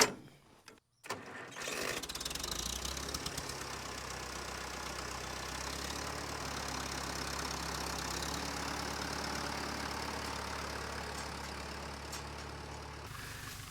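Case 731 tractor engine cranks after a brief pause and catches, then settles into a steady, loud, close diesel-like idle with a low rumbling knock that runs alone for over ten seconds before cutting off.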